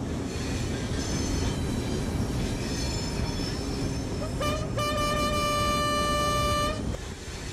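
The very long iron-ore train from the Zouérat mines in Mauritania rumbles past steadily, with metallic wheel squeals ringing out partway through before the noise settles again.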